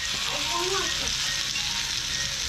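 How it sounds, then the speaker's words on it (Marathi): Spiced eggplant slices seasoned with salt and masala fry directly on a hot tawa, giving a steady, close, dense sizzle that holds evenly from start to end with no talk over it. "एक वांग्या घेतल्या, त्याच्यात मीठ मसालो घातल्या आणि डायरेक्ट तव्यावर परतल्या"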